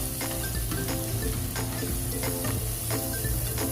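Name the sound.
stirring onions and spices frying in a pan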